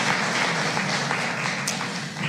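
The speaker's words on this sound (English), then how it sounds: "let us please applaud his great role of leadership" Loud, dense audience applause honoring the Deputy Secretary of Treasury at a Washington event for young African diaspora leaders, many hands clapping continuously and evenly throughout.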